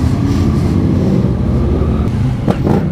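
A 2018 Yamaha MT-09 SP motorcycle engine roars loudly and close, with a sustained revving growl and a couple of sharper bursts near the end.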